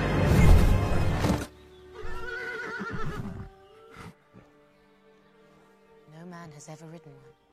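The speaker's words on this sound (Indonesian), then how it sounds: "Perseus juga dihampiri Pegasus, seekor kuda terbang yang tidak pernah ada seorang pun yang menaikinya." The winged horse Pegasus from the film Clash of the Titans whinnies in a short wavering call near the end, after a loud rushing blast and voices in a dramatic movie soundtrack.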